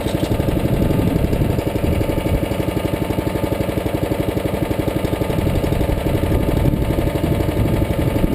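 A Predator 212cc 6.5 HP engine runs on a Harbor Freight 62323 chipper/shredder just after starting with the choke off, a loud, steady, rapid chugging putter that holds constant with no talking.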